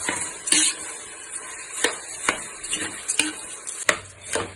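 Cooked rice being kneaded into a dough by hand in a village kitchen. Soft, uneven squelching and pressing sounds repeat with sharp little knocks against the bowl, close by and with no talking.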